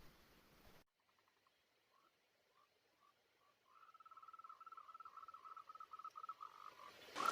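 Faint calls of emerald green tree frogs in breeding season in a rainforest at night: a few scattered chirps, then a steady run of rapid, pulsing croaks growing louder, with quiet night air behind.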